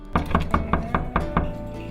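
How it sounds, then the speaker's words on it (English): Seven quick, evenly spaced knocks on a wooden door, close and solid, the rhythm steady before fading out. "such as a knock at the door,"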